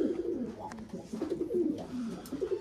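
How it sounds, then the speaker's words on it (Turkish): Tumbler pigeons in a coop give soft, rolling coos, several birds calling close together in a low continuous murmur. "Bunlar hepsi dönüş kuşu arkadaşlar"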